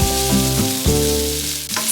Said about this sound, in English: So I've been stirring these every couple of minutes.